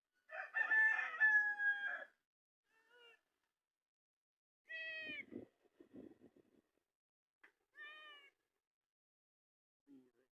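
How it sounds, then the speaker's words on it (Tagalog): A cat meows repeatedly and close by: a long, drawn-out wail, then shorter, scattered cries and softer chirps separated by silent gaps. "Oh, ngiyaw ka ng ngiyaw."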